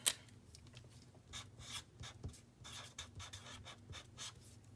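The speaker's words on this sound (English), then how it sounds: "Okay, I'm gonna write that down." A pen scratches across paper in quick, irregular strokes, close and fairly faint, with a soft tap at the start and no talking.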